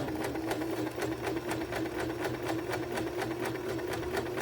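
A sewing machine stitches two fabric squares together, running steadily with a fast, even mechanical rhythm, close and alone.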